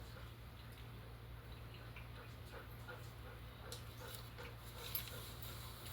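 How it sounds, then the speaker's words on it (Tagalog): A dog whimpers softly close by at an outdoor barbecue food stall, faint high whines over a steady low electrical hum and murmuring background chatter. "May aso dito na kasi ito."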